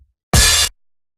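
Single hi-hat hit sample from an FL Studio kit, a bright noisy burst lasting about a third of a second with a flat sustain and abrupt cutoff, alone in silence.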